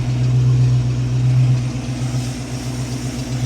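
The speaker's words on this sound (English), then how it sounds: "The engine speed has picked up slightly" Ford Mustang engine idling steadily after a distributor timing adjustment, a loud close low hum with a constant throb and a slight dip in level partway through, no talking.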